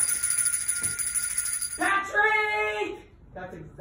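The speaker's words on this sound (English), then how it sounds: "Where's my bell? Where is my bell? Somebody get me my bell." A small hand bell rings in a bright, rapid jingling burst lasting about a second, close and clear, followed by a shorter, fainter ring; a voice talks before it.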